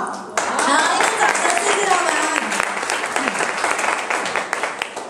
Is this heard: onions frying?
no